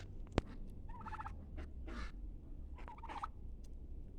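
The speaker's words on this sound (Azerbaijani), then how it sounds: "Yeni hinduşkamız xeyirli, uğurlu olsun." A newly bought hen turkey gobbles in two bursts of rapid, rattling calls from close by, one early and one later, over a steady low background rumble; a sharp click sounds near the start.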